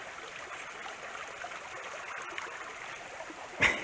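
A small mountain stream in the Allegheny Mountains flows with a steady, even rush and trickle, heard close and moderately quiet, ending in a brief louder splash or knock.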